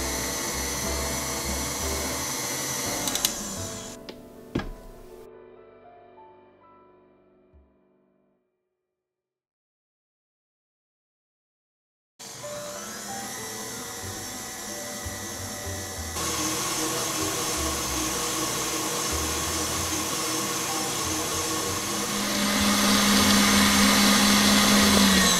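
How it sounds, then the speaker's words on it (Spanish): An electric mixer whirs as it beats Swiss meringue with sugar, a loud steady drone that cuts out into several seconds of silence, then starts again and rises in pitch and intensity. "Ahora sí vamos a seguir batiendo."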